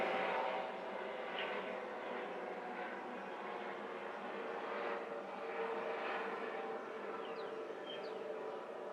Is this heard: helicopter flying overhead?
yes